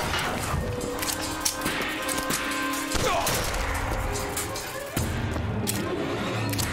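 Sniper gunfire in Bioshock Infinite, a dense barrage of game gunshots and thuds over continuous loud battle noise and music, with a few sharper cracks standing out.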